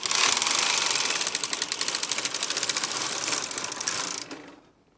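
A Brother KH-270 chunky electronic knitting machine carriage sweeps across the needle bed to select needles, making a loud, rapid mechanical rattling and clicking in a steady rhythm that stops abruptly near the end.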